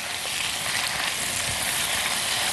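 Onions frying and browning in a pan, giving a loud, even, close sizzle that stays constant throughout with no voices.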